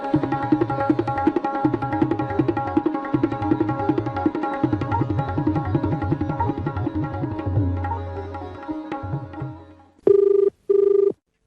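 A telephone rings over and over in steady rhythmic bursts during a radio phone-in programme, then two short electronic tones sound after a brief pause.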